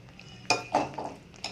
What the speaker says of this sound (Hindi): अब इसके अंदर मैं पनीर को ऐड कर दूँगी